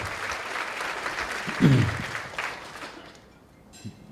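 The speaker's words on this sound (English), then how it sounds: "Let's give him a big round of applause" A crowd claps in sustained applause that fades out toward the end, with a voice briefly heard over it.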